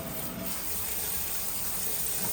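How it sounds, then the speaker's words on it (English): Water draining off boiled spaghetti, a steady close rushing pour of water that runs continuously without pause. "I am gonna let the water drain off the spaghetti"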